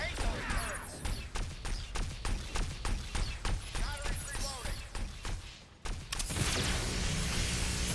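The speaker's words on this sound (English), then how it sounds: "let's let the turret do its job" Turret firing in the video game Agents of Mayhem, a rapid run of sharp regular shots over about six seconds amid game noise and talk, then a brief gap and a dense noisy burst.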